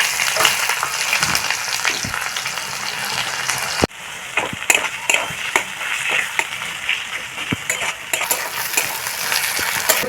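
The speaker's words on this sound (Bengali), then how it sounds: "পেঁয়াজটাকে লাল করে ভেজে নিয়েছি" Chopped onions fry with bay leaf, dried chilli and whole spices in a pan, a steady sizzle broken by repeated scraping stirs and light utensil clicks, close and fairly loud.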